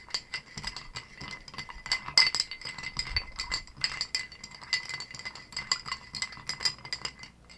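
Ice rattles and clinks steadily in a glass as a jalapeno cocktail is stirred, a dense run of close, quick, bright clicks lasting throughout with no talking.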